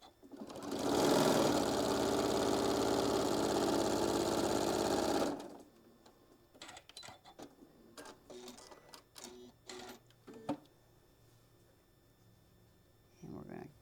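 A sewing machine runs steadily for about five seconds, stitching a quarter-inch seam on quilt pieces, then stops, leaving soft handling noises and light clicks.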